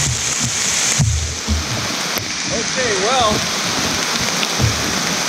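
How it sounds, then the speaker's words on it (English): Heavy rain drums on a camping tarp in a steady, loud wash of patter and splashing, with someone talking briefly over it and a bird whistling faintly in the middle. "since it's raining so hard"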